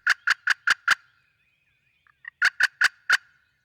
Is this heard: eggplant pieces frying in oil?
no